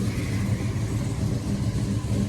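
A 1971 Chevelle with a 502 big block stroker engine runs steadily, a dense, rumbling drone that holds an even level throughout with no talking.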